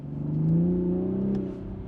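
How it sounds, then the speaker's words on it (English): A throaty six-cylinder engine in a 2023 Toyota Supra revs up once, swelling in pitch and loudness before easing back to idle, heard up close. "raucous 6-cylinder engine, quite familiar to those who have owned BMW B58 engines before"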